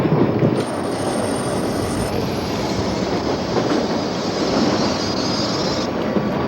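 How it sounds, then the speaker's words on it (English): A commuter train runs through a tunnel beneath Washington, D.C., a dense continuous rumble of wheels on rails with faint high squeals, steady and close throughout. "In a tunnel beneath the nation's capital, a commuter train carries astronomer Benjamin Peary to work."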